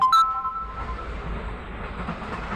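A passenger train leaving Sealdah runs along with a low rumbling roar and faint rattling, preceded by a brief tonal whistle-like sound at the very start; steady and moderately loud.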